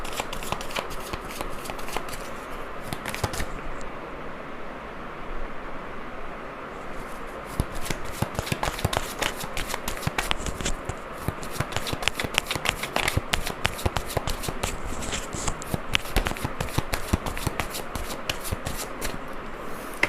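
Tarot cards being shuffled by hand in a steady stream of crisp riffling and slapping bursts, loud and close, with a brief quieter lull early on before the shuffling picks up again and continues without talk.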